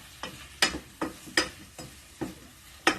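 Green beans with mushrooms, pepper and cumin sauté in a pan, with rhythmic scraping stir strokes, about two per second, over a quiet sizzle.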